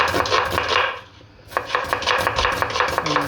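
Rapid knife chops slicing onions on a cutting board, a steady run of sharp taps with a brief pause midway, close and fairly loud.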